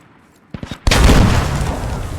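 A few soft thumps are followed by a single loud, booming tank cannon blast in a video game, rolling on with a long, rumbling decay.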